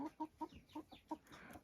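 Silkie hens give a run of soft, quick clucks in an even rhythm, faint and close, with no talking.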